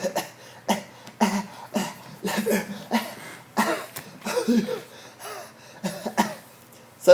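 An audiobook narrator performs a man's repeated coughing as he drops a cigarette, a run of short harsh coughs and throat-clearing bursts in an uneven rhythm, close and fairly loud with no other voices.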